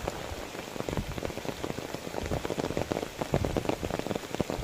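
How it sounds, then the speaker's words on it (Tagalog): Heavy rain with big drops falls close by, a dense, pattering downpour with individual drops striking surfaces at an uneven rhythm, fairly quiet overall and without talk. "Malaki ng patak ng ulan."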